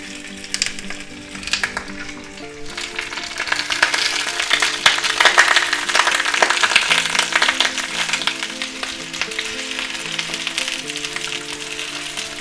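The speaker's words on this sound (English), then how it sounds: "We're going to take our 5 gold potatoes and we're going to put them right in there." Five gold potatoes frying in a hot pan give a dense, crackling sizzle that builds and holds steady throughout, close and moderately loud, with a faint musical tone running underneath.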